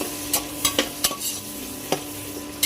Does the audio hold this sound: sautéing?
yes